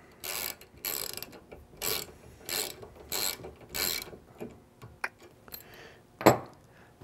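A T30 Torx driver ratchets a pivot knuckle screw tight on a Trektop soft top for a 4-door Ford Bronco, about six evenly spaced clicking bursts followed by a few sharper metallic clinks, close and clear, no voices.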